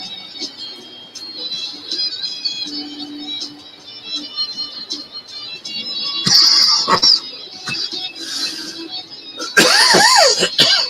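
A person coughs harshly a few times, with bursts of rough hacking in the latter half over a background hum.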